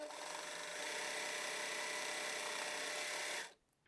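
A sewing machine hems the leg of a knit pant in one continuous, even whirring run for about three seconds, then stops abruptly into quiet.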